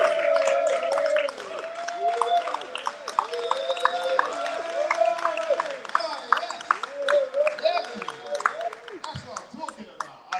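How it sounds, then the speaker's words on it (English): Audience applause and cheering for comedian Roman Harris at a live comedy show, a dense sustained clapping wash that stays loud throughout, with crowd voices and shouts mixed in. "give a big old round of applause for Roman Harris"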